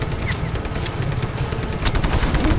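Rapid automatic gunfire in the video game Just Cause 3, a dense, loud stream of shots rattling continuously through the whole short stretch.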